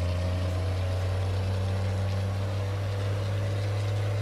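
Steady, droning idle of an International 9400 truck engine carrying 40 tonnes of coffee in American Truck Simulator, a continuous low rumble with no pauses or talk.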